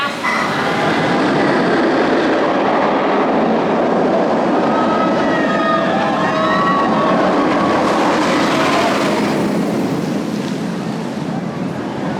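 The Shambhala roller coaster train at PortAventura roars past nearby with a loud rushing rumble and rattling, rising and falling over several seconds.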